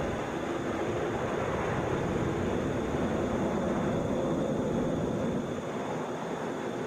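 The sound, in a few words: Delta Airbus A321 airliner landing at Atlanta airport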